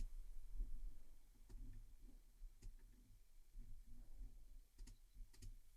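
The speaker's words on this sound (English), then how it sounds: "Press delete on the keyboard." A few faint, scattered key clicks on a computer keyboard, with a quiet low hum beneath and no talking.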